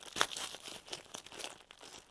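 Crinkling plastic bag rustled in short bursts up close while yarn is unpacked, with sharp crackles and soft scrunching throughout.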